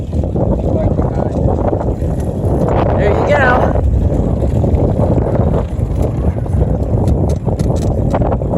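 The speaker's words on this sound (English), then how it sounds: "I'm sure you can hear the wind." Loud wind buffets the microphone in a constant roar, with a voice speaking briefly beneath the gusts.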